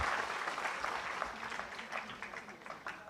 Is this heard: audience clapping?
yes